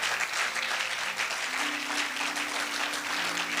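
A church congregation claps and cheers steadily to acclaim the Lord during a French-language service, dense sustained applause filling the room with a faint low hum beneath.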